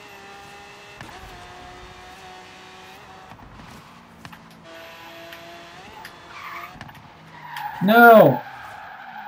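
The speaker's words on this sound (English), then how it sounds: "That's a power slide, folks." A car in the Forza Horizon 3 racing game goes into a power slide, its engine droning under game sounds before a sharp, loud tire squeal near the end, with a player shouting briefly.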